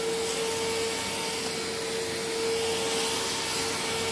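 A cordless stick vacuum cleaner runs steadily indoors on a living room floor, picking up cat litter, with a constant whine and an even motor hum from a unit needing a new bearing.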